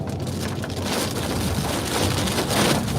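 Heavy rain from a storm pours steadily against a moving car, a dense, even wash of drumming drops that fills the clip from start to finish with no voices.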